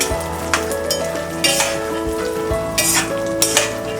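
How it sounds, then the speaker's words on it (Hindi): Peanuts frying over a low flame in a pan for murmura chivda hiss in a steady loud sizzle, while repeated scraping strokes of a stirring spoon come through at close range. "अब हम फ्राई करेंगे ये पीनट्स। इसे कंटिन्यूसली स्टर करते हैं, लो फ्लेम में हम इसे फ्राई करेंगे।"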